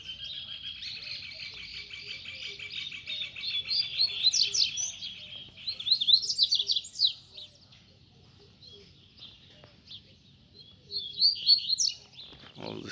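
Two double-collared seedeaters (coleiro) sing together at close range, bright rapid trilled phrases in bursts with short pauses, alone over a quiet background.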